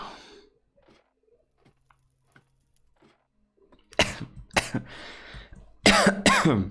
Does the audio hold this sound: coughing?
yes